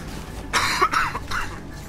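A short burst of harsh coughing, close and fairly loud, with a few rough throat-clearing bursts in quick succession and no talk.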